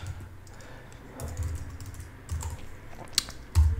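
A file name is typed on a computer keyboard in a short run of close, soft key taps with a few louder strokes near the end, no voices.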